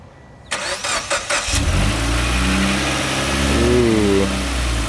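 Mitsubishi Lancer Evolution X engine cranking with a few starter bursts, then catching and settling into a steady, loud idle with a slight rev, close by after a cold air intake install.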